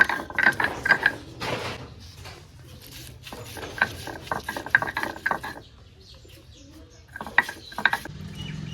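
Spices are ground into paste on a grinding stone, a rough rhythmic scraping and knocking of stone on stone, close and fairly loud, in repeated bursts with brief pauses.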